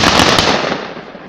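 A loud, sharp blast from gunfire at a battle reenactment in the Carpathian mountains, reconstructing a fight of the Ukrainian Sich Riflemen on Makivka, with a short crackling burst fading into a long echoing decay.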